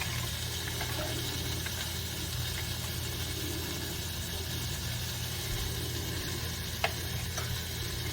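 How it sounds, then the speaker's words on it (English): Beef browns in a hot pan, giving a steady, close sizzle that runs unbroken and fairly loud, with a single faint tap near the end. "We're going to keep browning all sides."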